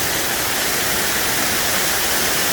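A waterfall on a Tennessee trail roars as a steady, dense broadband rush, loud and close, with no voices over it for the whole stretch.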